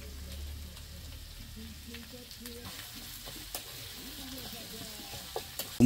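Vegetables fry in a pan, a steady low sizzle and crackle running throughout with occasional soft utensil knocks, close by and fairly quiet, ending in a louder clatter.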